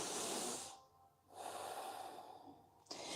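A slow yoga breath drawn in and let out through the nose: a long soft airy inhale, a brief pause, then a steady exhale, close and quiet with no talking.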